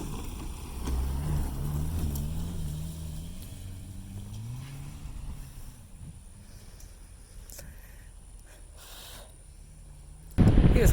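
A 2017 Honda Fit, front-wheel drive with a manual transmission, races around a yard, its engine droning and rising in pitch as it accelerates, then fading back before a loud burst at the end.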